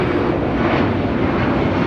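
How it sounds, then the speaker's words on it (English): Former All Nippon Airways Boeing 767-200 converted freighter taking off at LAX, a loud, continuous jet engine roar filling the whole stretch without any talk. "This is ABX Air Flight 403 taking off to Cincinnati on a former All Nippon Airways 767-200 converted freighter."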